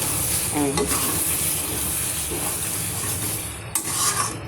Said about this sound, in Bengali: দেখুন সর্ষেটা দিয়ে দিলাম, একটু মাখিয়ে দিই।